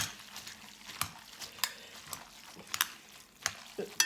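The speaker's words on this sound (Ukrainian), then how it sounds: "перемішуємо, перемішуємо" Sugo sauce for spaghetti being stirred in a pan, with soft sizzling under repeated clinks and scrapes of a utensil against the pan, fairly close and quiet.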